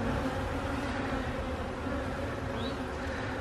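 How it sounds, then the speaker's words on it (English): Dense, steady buzzing of many honeybees crowded on a beehive frame, close and continuous throughout with no talk. "A lot of bees here on this one."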